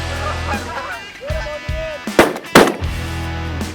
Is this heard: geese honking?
yes